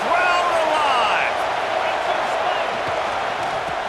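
Football stadium crowd at a Maryland vs Clemson game roars loudly and steadily on a third-down red-zone play, a dense wash of cheering that stays strong throughout while a commentator talks over it.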